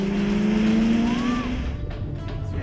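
A car pulls away in first gear and corners around cones on a wet driving course, its engine note rising as the tires squeal briefly, then the sound fades away.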